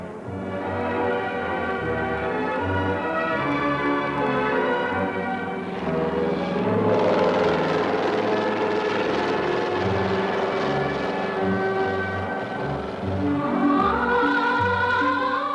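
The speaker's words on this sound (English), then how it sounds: "For this patient, a helicopter and medical doctors were sent by the dear leader, Comrade Kim Dynasty." A medical rescue helicopter sent with doctors for an unconscious patient in North Korea, its rotor and engine drone steady and fairly loud throughout, layered with broadband whine and harmonic tones.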